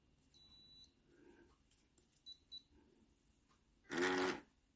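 A battery-operated Allegro soap dispenser gives faint, high electronic beeps when switched on: one longer tone, then two short blips, followed by a brief louder burst of noise nearby.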